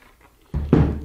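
An interior room door gives a single dull wooden thump, a close, short knock-like impact with a brief resonant tail after a quiet lead-in.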